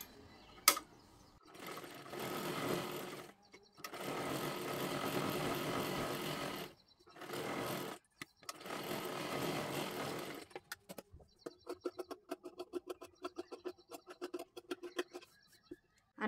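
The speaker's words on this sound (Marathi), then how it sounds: "पाठीमागच्या बाजूला सुद्धा आपल्याला शिलाई करून तयार करायचं आहे" A sewing machine stitches a sleeve for a one-piece dress, running in four loud whirring bursts separated by short pauses, then switching to quieter, irregular ticking and clicking with no one talking.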